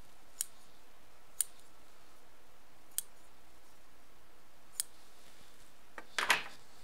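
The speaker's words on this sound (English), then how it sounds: "Now I can just snip some more." Scissors snip jelly roll quilt pieces during serging: about five quiet, sharp clicks spaced a second or two apart, then a brief louder rustle at the end, in an otherwise hushed room.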